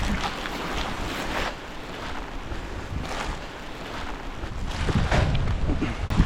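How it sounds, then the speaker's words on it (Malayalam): Rain and gusting wind sweep across Eravikulam National Park in Munnar, a steady close hiss with rumbling buffets on the microphone and a few sharper gusts toward the end. "പണ്ടാര മഴയും പണ്ടാരം കാറ്റും"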